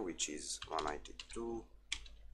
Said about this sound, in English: So I will type the IP address of my Linux machine here,